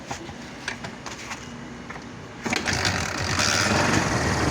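A Kawasaki Barako motorcycle engine runs smoothly and steadily close by, with a fast mechanical ticking pulse that grows louder and fuller partway through.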